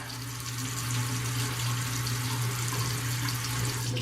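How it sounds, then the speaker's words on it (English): Warm water runs from a bathroom sink tap while someone splashes it onto their face, a steady close hiss and gush with light splashing throughout and no talking. "Warm water on my face like this, and I'm gonna just pat it in there a little bit."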